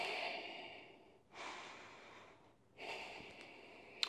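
Slow, deep breaths drawn in and let out in long, even cycles, quiet and close with no talk.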